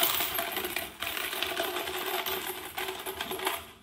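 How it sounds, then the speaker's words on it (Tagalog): Coins drop and clatter out of a piggy bank in a rapid, dense jingling run with a couple of brief gaps, fairly close and moderately loud, with no talking. "May piso pa nahulog."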